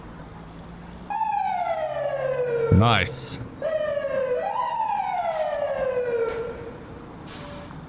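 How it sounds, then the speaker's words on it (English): Police sirens in the video game EmergeNYC wail in long rising and falling sweeps, loud and close, with a short burst of another siren tone and a brief spoken word. "The sirens to me is honestly one of the high points of this game"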